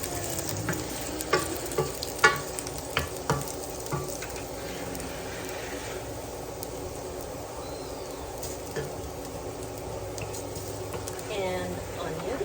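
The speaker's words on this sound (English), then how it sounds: "We're sauteing, obviously," Garlic sautéing in a pan for Filipino rice-noodle pancit, a steady soft sizzle with scrapes and clinks of a utensil stirring, while people talk over it throughout.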